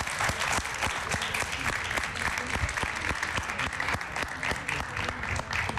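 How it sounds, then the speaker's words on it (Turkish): A crowd applauds a child poet leaving the stage, with steady, fairly distant clapping that carries distinct rhythmic claps in unison over the general patter. "Kocaman Şimdi alkış. alkışlarla bir uğurlayalım onu."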